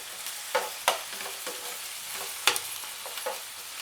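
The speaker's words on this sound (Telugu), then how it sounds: "ఇది పచ్చివాసన పోయేంత వరకు బాగా వేయించుకోవాలి" Masala frying and being stirred in a pan for Natu Kodi country chicken curry, a steady sizzle broken by several sharp spatula scrapes and clinks, close and clear with no talking.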